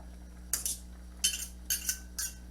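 A metal lid clinks onto a pot of potatoes and garlic, four sharp rattling clatters in quick succession over a low steady hum.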